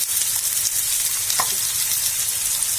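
Chopped tomatoes fry in a pan for paneer masala, a dense, even hiss of sizzling with a single soft stir-scrape midway and no speech.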